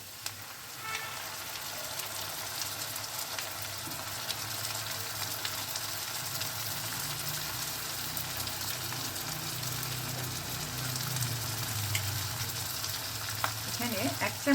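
Spice paste sizzles steadily in white oil while being stirred for chicken tehari, a continuous close frying hiss with soft scraping and stirring movements throughout.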